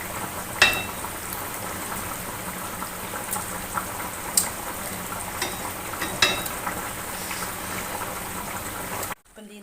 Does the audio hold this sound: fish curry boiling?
yes